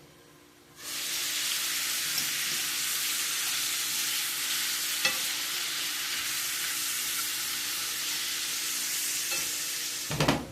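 Peppers and steak fry in a pan, a steady loud sizzle starting after a second and holding for about ten seconds, with a brief stirring scrape near the end.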